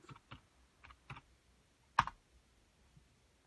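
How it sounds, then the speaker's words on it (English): Keys tapped on a computer keyboard while typing a message, a few soft scattered clicks followed by one sharper key press, quiet and close with no talking. "So now all I've got to do is type in speak to an assistant."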